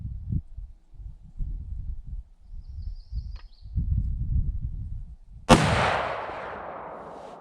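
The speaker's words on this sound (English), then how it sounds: "we'll load up this first round, and we're shooting at the target on the left." A Ruger M77 rifle fires a single loud shot near the end, its sharp crack trailing into a long fading echo outdoors, after low rustling and handling noises.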